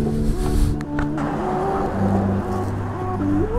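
An Aprilia RSV4 fitted with an SC-Project CR-T exhaust at wide open throttle, a loud rasping engine roar with shifting pitch that drops and climbs again before cutting off abruptly at the end.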